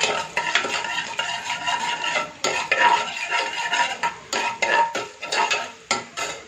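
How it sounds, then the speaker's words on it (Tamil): Mustard seeds and urad dal splutter in hot oil for a tempering for brinjal kosamalli: a steady, close sizzle peppered with sharp crackling pops and the clatter of a spoon stirring in the pan, with no talking. "கடுகு நல்லா பொரியட்டும்."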